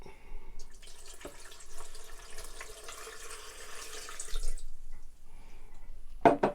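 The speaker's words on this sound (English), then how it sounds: "Gonna add some water to it now." Water poured from a container into a blender of homemade green juice, a steady splashing, trickling stream running for about four seconds, followed by quiet and a short sharp clatter at the end.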